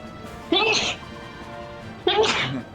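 Two sharp sneezes about a second and a half apart, close and loud, over quiet background during a gaming session.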